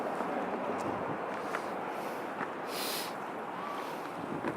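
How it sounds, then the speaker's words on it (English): Strong, steady wind buffets the microphone outdoors at a street protest outside a church, with a continuous broadband roar and brief gusty swells, cars passing faintly behind. "it is definitely gusty"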